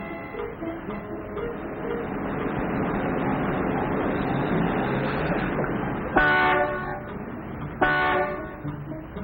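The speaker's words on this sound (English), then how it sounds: "Will you stop honking, Mac?" A low rumble of 1950s American road traffic runs throughout, then two blaring car horn honks sound a couple of seconds apart, loud and close.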